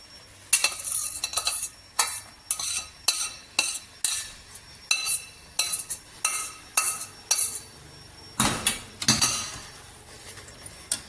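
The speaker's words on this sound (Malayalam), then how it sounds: "ഇനി നമുക്ക് ആ വേവിച്ച് വെച്ച പച്ചക്കറി ഇതിനകത്തേക്ക് ഇടാം." Cooked snake gourd and onion tipped into a pan of vegetable curry and stirred, a metal spoon scraping and clinking against the pan in a quick, steady rhythm of strokes over a faint sizzle, close by with no talking.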